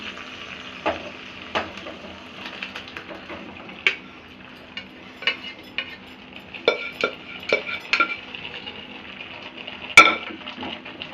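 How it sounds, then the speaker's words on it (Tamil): Carrot halwa stirred in ghee in a pan, with soft scraping strokes and light metallic clinks of a spoon against the pan repeating irregularly, close and fairly quiet, with one sharper clink near the end. "இது நல்லா கிளறிக்கிட்டே இருக்கணும். நீங்கள் அடி பிடிக்காத அளவுக்கு கிளறணும்."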